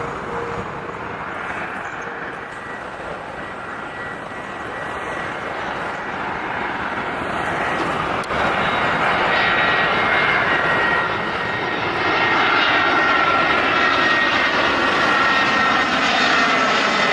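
Airplane flying low overhead on approach to an airport, a loud broad engine roar building steadily over seventeen seconds as it passes close above, with no talking.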